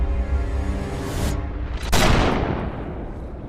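A gunshot from the movie Lockhart: Unleashing the Talisman is a sudden loud crack over a dense rumbling background, followed by a broad booming burst that slowly fades.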